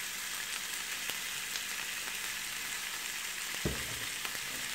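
Turkey escalopes fry in a hot pan, giving a steady broadband sizzle throughout with a brief louder crackle near the end; no one speaks.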